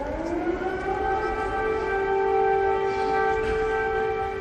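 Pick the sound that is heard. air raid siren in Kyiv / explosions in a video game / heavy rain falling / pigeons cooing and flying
air raid siren in Kyiv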